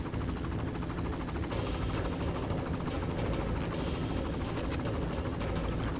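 A helicopter in the video game Far Cry gives a loud, steady rotor roar that fills the whole stretch, with faint mechanical and gunfire-like clatter mixed in.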